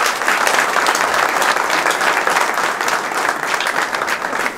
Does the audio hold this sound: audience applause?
yes